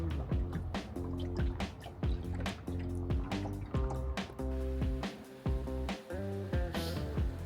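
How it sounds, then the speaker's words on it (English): Rhythmic oar strokes of a small rowboat crossing a bay in the morning, with repeated drips and splashes at close range and water sloshing against the hull. "we just had a little morning row across the bay"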